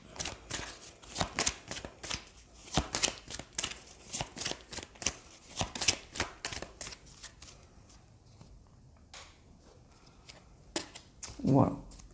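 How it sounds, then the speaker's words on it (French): Oracle cards being shuffled by hand, a rapid run of crisp riffling slaps in quick succession that thins out toward the end, close, with someone speaking softly at times. "Et une carte de l'oracle des réponses angéliques."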